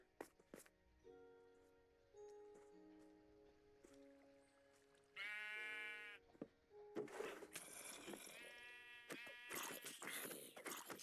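Minecraft sheep bleats come in short harmonic bursts over background music with sustained tones, several loud bleats clustered near the end.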